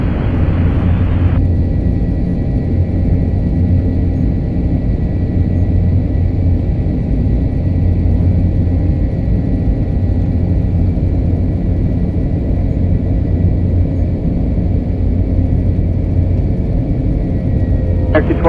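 A steady, loud engine roar from inside an Airbus A321 airliner on its takeoff run, a continuous rumble filling the cabin throughout with no pauses.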